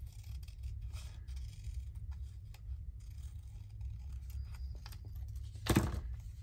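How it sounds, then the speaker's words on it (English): Big scissors snip steadily around the border of a large fabric-pocket paper tag, with soft rapid cutting strokes and a louder crunching cut near the end, with no talking. "I think I can get around it with these big scissors"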